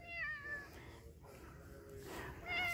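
A cat meows up close in a few drawn-out, wavering cries, with a soft rustle between them and no talking.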